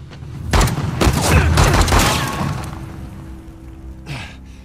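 Gunfire in the video game Uncharted: The Lost Legacy: a dense burst of loud shots and booming impacts over roughly two seconds, fading into a low rumble, with one more softer shot near the end.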